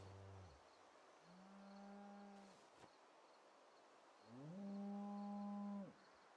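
Two long, low cow moos in the video game Project Zomboid separated by a pause, clear and near, with a brief knock in between.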